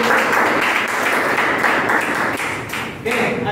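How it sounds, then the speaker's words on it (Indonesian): Classroom applause from a group of students during a computer networking business lesson, a steady dense clatter of many hands clapping at close range, easing slightly near the end before swelling again. "Oke, tepuk tangan."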